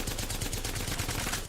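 Havoc rifle in Apex Legends fires a fast automatic stream of evenly spaced shots, loud and close, running continuously before cutting off abruptly at the end.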